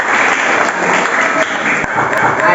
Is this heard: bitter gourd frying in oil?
no